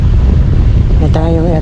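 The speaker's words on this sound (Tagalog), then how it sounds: "sobrang lakas ng hangin" Strong wind at sea buffets the microphone with a loud steady roar on a boat, and a short voice is heard under it near the end.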